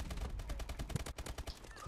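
Rapid, loud bursts of ASM-1 automatic gunfire in the video game Advanced Warfare fill the whole short stretch, with shots cracking in a fast, continuous rhythm.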